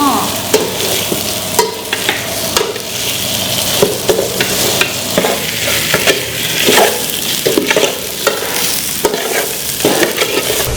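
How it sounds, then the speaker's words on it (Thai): Coriander seeds and spices sizzle and crackle in a hot pan while being stirred, with repeated scraping strokes over a steady frying hiss; close and loud. "ผัดลงไป ให้มันหอมค่ะ"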